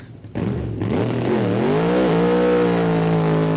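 A nitrous-injected drag racing car with an 11.6-litre Ford V8 at Santa Pod revs up close by, starting with a sharp bark and then swelling into a loud, rising engine drone with climbing pitch.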